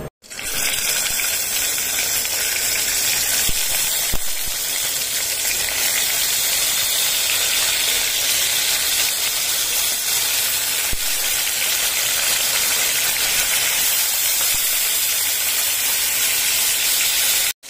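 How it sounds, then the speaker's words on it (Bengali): Topse fish, rubbed with salt and turmeric, fry in hot oil with a loud, continuous, close-up sizzle and hiss, unbroken by talk. "তোপসেগুলো আমি এখন খুব ভালো করে ভেজে নিচ্ছি"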